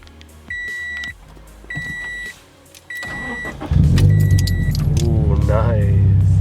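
A few electronic chimes and a key jingle, then a Toyota FR-S/Subaru BRZ engine fitted with DC Sports headers cranks and cold-starts into a loud, steady rumbling idle.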